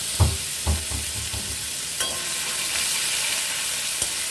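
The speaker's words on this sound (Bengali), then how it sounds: "মশলাটা দিয়ে ভালো করে ভাজা ভাজা করে নেব যাতে কাঁচা গন্ধটা চলে যায়" Ginger, garlic and onion paste fries in oil with cumin, bay leaf and whole garam masala, a steady hiss broken by a few sharp spatula scrapes and taps near the start, then quieter sizzling.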